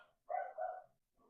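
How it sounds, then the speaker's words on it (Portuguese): A single dog barks twice in quick succession, a gruff, fairly close double woof, followed by a fainter short yap. "Vocês ouviram o meu cachorro brabo aí?"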